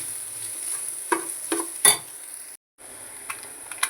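Chili powder, Kashmiri chili powder and fish masala sautéing in a pan for a flying fish (parava) roast, a faint steady sizzle broken by a few short scraping stirs and clinks of a utensil against the pan.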